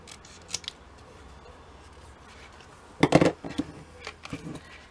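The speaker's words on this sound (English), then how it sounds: "So I'm just going to trim round them quickly." Scissors trimming paper for an envelope folio: a faint snip near the start, then a louder cluster of quick cutting snips and paper rustles in the back half, with no talking.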